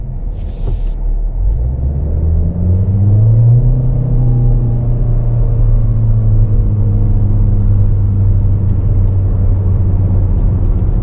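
A 2025 Chevrolet Equinox LT pulls away and accelerates on the road, its engine note rising smoothly through gears over a loud, steady rumble of road and cabin noise.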